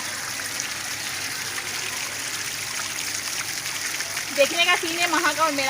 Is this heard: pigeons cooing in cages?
no